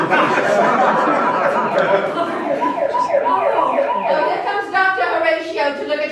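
An ambulance siren wails in steady rising and falling sweeps, close and loud, with several voices chattering over it.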